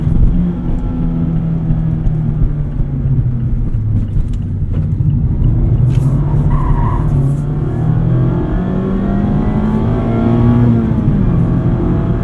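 A 2024 Mazda MX-5 Miata RF Club is driven hard with traction control off, its engine droning loud and close from inside the car, pitch rising and falling through revs and shifts, with brief tyre noise.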